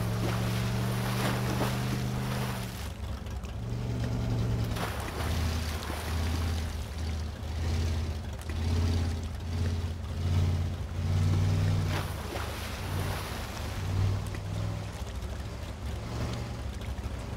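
A motorboat in the Teardown video game drones at a low pitch with a wavering engine note, loud and close, and water and wind noise wash over it throughout.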